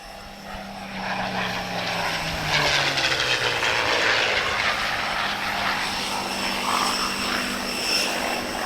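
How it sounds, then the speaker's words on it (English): A Supermarine Spitfire propeller plane flies a display manoeuvre at an airshow, ending in a victory roll. Its engine drones loud and steady for the whole stretch, with the pitch shifting as the aircraft passes and turns. "Most Spitfire displays you see now end with a victory roll."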